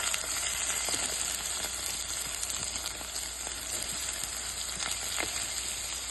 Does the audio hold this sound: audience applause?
no